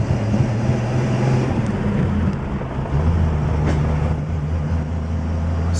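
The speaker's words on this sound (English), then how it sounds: "Go ahead and take it for a test drive here real quick." A Chevrolet Styleliner Deluxe on a road test, its engine droning steadily with a low rumble and shifting tone as it accelerates, loud and close from inside the cabin.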